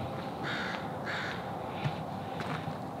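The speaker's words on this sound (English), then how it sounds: "very, very noisy crow today" A noisy crow caws loudly nearby, several harsh calls spaced about half a second apart, with a couple of fainter caws following over a low outdoor background.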